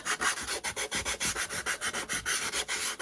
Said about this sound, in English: with my finger sander.